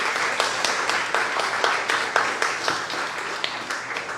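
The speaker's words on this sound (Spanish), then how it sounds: "Please, a big round of applause for Robert." A conference audience gives a steady round of applause for Robert Henke, with dense clapping that carries on evenly from start to finish.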